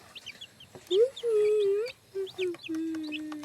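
Hungry chicks peeping near an incubator, thin high cheeps in short repeated bursts and longer drawn calls, close and clear, with faint background noise.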